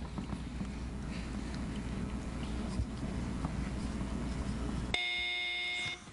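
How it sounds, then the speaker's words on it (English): A quiz-bowl match between two high school teams closes with an end-of-match buzzer: a steady electronic tone with harmonic bands that starts abruptly after a stretch of noisy room ambience and holds for about a second before cutting off. "that buzzer means the end of our match today"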